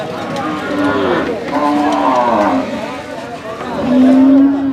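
A cow lows several times at a busy cattle market, long loud moos up close, with crowd noise in the background.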